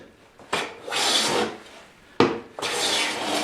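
A hand plane glides over a wooden board in two long smoothing strokes, each a dry, rasping shave that starts with a sharp bite, heard up close with no talking.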